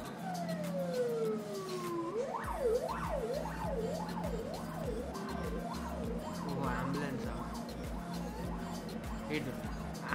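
A wailing ambulance siren sweeps up and down in a rapid repeating cycle, loud and close over steady traffic and engine rumble, with a voice talking over it.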